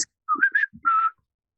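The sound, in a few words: high-pitched whistled little tune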